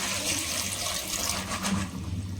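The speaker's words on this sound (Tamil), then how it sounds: "ஸோ இப்போ வந்து தண்ணி சேர்த்துக்கிறேன்." Water poured into a cooking pot for a green pea and potato gravy, a close, continuous splashing stream with no talking.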